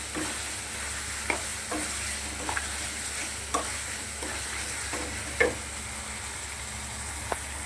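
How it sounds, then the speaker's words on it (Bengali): Spice paste for a jackfruit curry sizzles steadily as it fries over high heat in a pan, with intermittent scraping and knocking as it is stirred. "মশলাটাকে আমি ভালো করে কষিয়ে নেব।"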